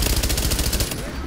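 Gunfire in the video game The Division, a rapid close burst of automatic shots in a fast even rhythm that cuts off near the end.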